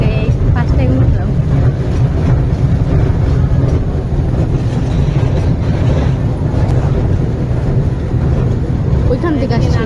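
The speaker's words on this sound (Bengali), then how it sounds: "কোনোদিন ট্রেন উঠি নেই, ফার্স্ট টাইম উঠলাম।" A toy train carrying riders at a zoo gives a continuous loud low rumble and rattle of wheels and carriages. People talk throughout over the steady noise of the ride.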